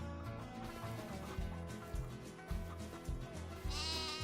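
Sheep and goats on a Farming Simulator 25 homestead bleat repeatedly over a constant background of farm ambience, several overlapping calls at an even pace, near and clear, with no talking.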